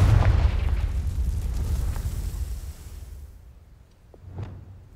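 A Confringo fire spell blasts in Hogwarts Legacy, a heavy low boom that rumbles and fades over a few seconds, followed by a smaller burst near the end.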